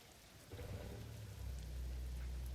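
Steady rain in American Truck Simulator pours down with a dense hiss and a low rumble that swells midway, staying constant and fairly loud with no voices.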